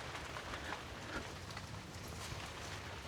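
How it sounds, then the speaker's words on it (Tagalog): Steady rain falling outdoors near a water tap, a soft continuous hiss with scattered drops spread evenly through the whole stretch, fairly quiet and with no voices. "Umuulan pa rin."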